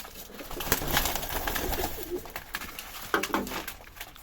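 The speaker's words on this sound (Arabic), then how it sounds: "فتحنا الحمام بس مش كل الحمام" Domestic pigeons cooing in a loft on a winter day, a soft chorus of low burbling calls mixed with fluttering and scuffling, with a few louder close bursts near the end.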